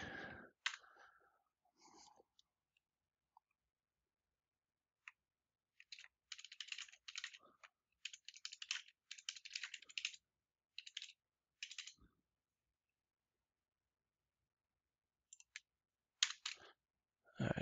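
Bursts of keystrokes on a computer keyboard as a page title is entered into a web form, quiet and close, in several short clusters separated by pauses.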